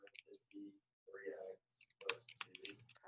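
Light clicks of typing on a computer keyboard in a classroom, coming in brief scattered bursts mixed with people talking.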